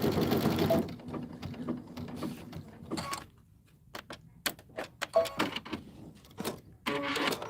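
A sewing machine with a walking foot and quilting bar stitches along a drawn line on a quilt panel, running in steady bursts with short stops and mechanical clicks, fairly close and alone.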